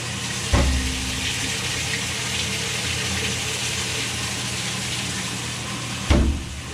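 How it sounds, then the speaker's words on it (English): A Kenmore Elite washing machine fills with water in a steady, soft rushing hiss. A dull thump opens the sound and another closes it, like a valve switching on and off. "see if the water comes on"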